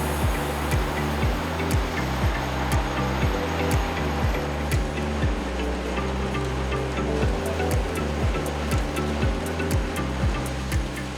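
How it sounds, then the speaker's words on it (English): Potatoes tumbling into a washer on a processing wash line make a steady churning, splashing rush of water with a rhythmic mechanical thumping underneath and faint clanks throughout, with no voices. "So we're getting them on this belt and they're gonna get dunked into the washer."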